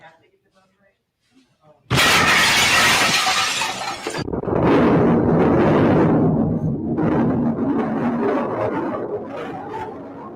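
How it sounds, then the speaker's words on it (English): An SUV smashes into a restaurant: a loud burst of shattering glass and crashing impact runs about two seconds, then chaotic, noisy clatter and commotion continue loudly to the end. "an SUV, I think maybe lost control of their car and smashed into a restaurant"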